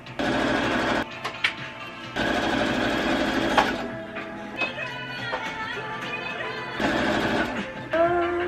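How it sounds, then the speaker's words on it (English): A sewing machine stitches ribbon onto fabric crowns in loud, steady bursts of rapid mechanical whirring, stopping and starting several times with short pauses between runs. "I'm gonna cut the ribbon to fit these, and then we will get to sewing."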